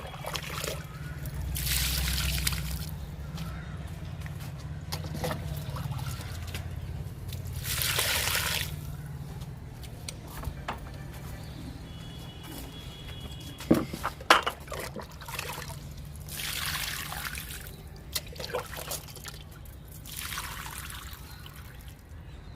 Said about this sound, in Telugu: నిమ్మ మొక్కకి వాటర్ ఇస్తున్నా